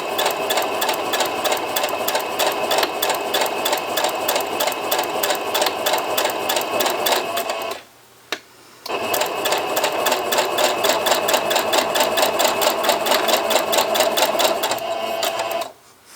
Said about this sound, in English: And I'm just chain piecing right at this moment.